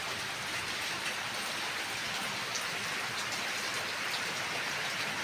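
Heavy monsoon rain pours steadily in a village setting, a constant even hiss of drops on surfaces, moderately loud and unbroken, with no talking.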